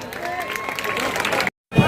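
Crowd clapping at an outdoor political rally in Indranagar, Baijipura, a dense burst of applause and cheering with voices mixed in, cutting off abruptly near the end.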